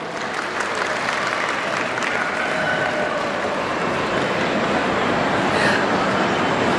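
An audience at a pet expo breed demonstration gives a sustained round of applause, a steady wash of many hands clapping in a large hall, even and continuous.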